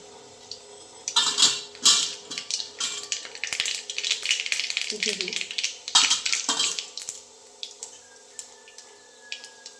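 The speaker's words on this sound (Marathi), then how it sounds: "तेल गरम झाले तेलामध्ये आता मोहरी टाकते" Mustard seeds drop into hot oil in a pan and crackle and sizzle in sharp, close bursts that come in two main flurries, with lighter spattering between them and a brief low voice.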